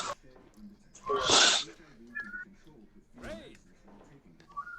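A single sharp human sneeze bursts out close to the microphone, followed by quieter voices and small rustling sounds in the room.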